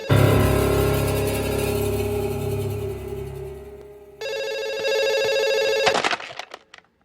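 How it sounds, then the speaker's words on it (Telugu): A hotel telephone rings loudly and persistently, its bright repeated trill changing to a sharper, higher ring before cutting off, with no one talking. "అసలు ఫోన్ రింగ్ అవుతుంది ఎత్తరు?"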